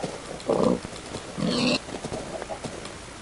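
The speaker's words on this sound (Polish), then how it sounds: "Świnia, chodź tu." A pig oinks and grunts in the video game Survival Island, giving two short bursts at moderate loudness with faint background noise in between.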